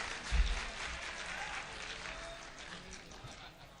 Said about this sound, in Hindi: आप लोगों की तालियां जैसी बजनी चाहिए वैसी बज नहीं रही